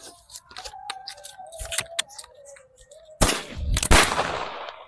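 A Diwali sky shot firecracker lit outdoors goes off with a sharp crack and a loud fizzing roar as it launches, followed by burst pops overhead, after a stretch of quieter background sounds.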